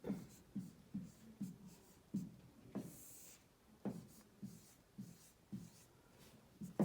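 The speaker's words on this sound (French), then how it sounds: "J'écris un exemple au tableau." Chalk tapping and stroking on a classroom board as a teacher writes out a decimal fraction example, a regular series of short, soft knocks and scratches close by with no speech.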